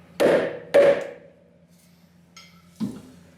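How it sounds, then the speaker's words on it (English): Rubber mallet striking an Evo X car hub, two dull, solid thumps in quick succession, then a quieter pause and a softer third knock, close and loud over a faint low hum. "Just use a mallet, rubber one."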